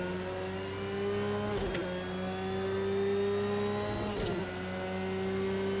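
A Porsche 911 GT3 R race car engine at Brands Hatch in Project Cars 2, a loud steady high-revving drone broken by two quick gear shifts.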